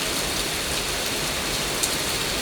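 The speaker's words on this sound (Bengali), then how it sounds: "মুসুল ধরে বৃষ্টি হচ্ছে," Heavy rain pours down in a dense, unbroken hiss, steady and loud throughout, with no voices.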